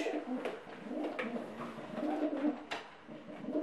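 Polish racing pigeons coo softly in a loft, low throaty murmurs overlapping at close range with a few faint clicks and rustles, and no talk.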